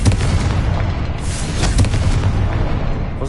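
A Confringo blasting spell detonates in Hogwarts Legacy, a loud, sustained rumbling boom with heavy low-end roar and debris crackle filling the whole stretch, no voices.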